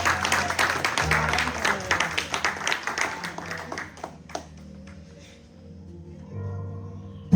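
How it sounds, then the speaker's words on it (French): A church congregation at a Sunday service claps for an elderly man, a few seconds of moderate applause with distinct individual claps that thins out midway, leaving quiet room sound and faint voices. "On peut applaudir pour Papy."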